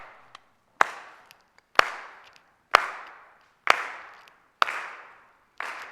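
Gospel workshop participants clap one at a time in a reverberant room: six sharp, distinct claps about a second apart, each ringing briefly before fading to silence.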